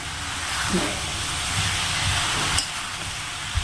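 Street-style garlic chowmein tossed in a hot pan with two ladles, giving a steady steamy sizzle and hiss throughout, with a couple of brief metallic clinks near the end.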